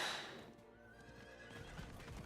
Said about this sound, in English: Come on, horse. Go, horse, go.